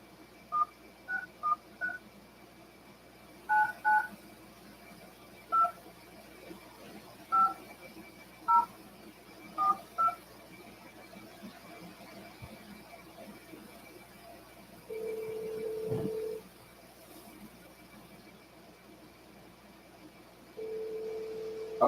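Touch-tone telephone keypad dialing during a call, a quick scatter of short two-tone beeps followed by longer steady tones, close and clear over faint room noise with no voices.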